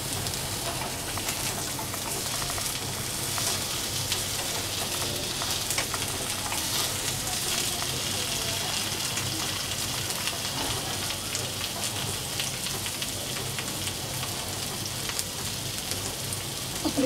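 Stuffed bitter gourd, bharli karli, frying in a pan with a steady, dense sizzle like light rain that runs evenly throughout, close and moderately quiet, with no voices.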